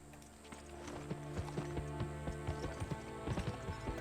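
Horse hooves clip-clop in the PS2 video game Gun, a steady rhythmic trot of sharp hoof beats over layered game music and mechanical sounds, fairly quiet overall.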